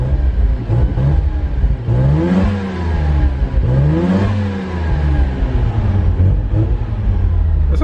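A Mazda FC3S Savanna RX7 rotary engine running with no alternator fitted, heard up close and loud, with its pitch rising and falling through several revs over a steady idle.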